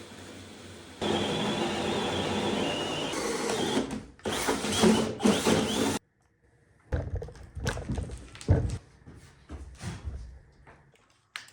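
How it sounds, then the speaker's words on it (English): A power drill bores a door handle hole through wood at a log cabin build, sounding in loud, uneven bursts of whirring and grinding separated by short pauses and one abrupt silence. "let's go try to drill a door handle"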